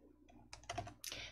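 Clicks and taps on a computer keyboard and mouse sound close and quiet as the cursor is placed in a word processor text box. A few sharp taps come in quick succession with no voice.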